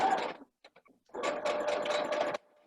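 A sewing machine back stitches through fabric along a doll pattern piece, a short burst of whirring stitching, then a pause with faint clicks, then a longer steady run that stops abruptly.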